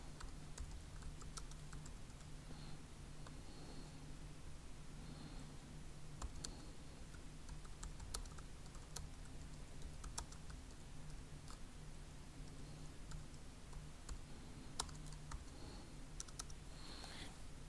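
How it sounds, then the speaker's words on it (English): Quiet, steady typing on a computer keyboard, rapid light key clicks continuing throughout with soft background hum. "Now you notice as I'm typing"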